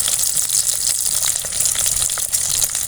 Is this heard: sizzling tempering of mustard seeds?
yes